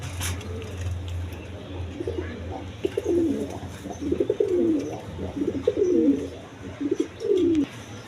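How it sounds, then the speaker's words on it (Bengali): A big-sized pair of Rajgolla pigeons at a breeding farm give a run of repeated throaty coos, each a rising and falling bubbling phrase, close and clear over a steady low hum. "এখানে এক পেয়ার রাজগোল্লা কবুতর আছে।"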